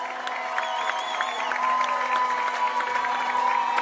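Crowd at a cerebral palsy men's football final in the Asia-Oceania Championships, with a player clapping toward the Australian supporters; steady applause and murmur fill the whole stretch at moderate distance.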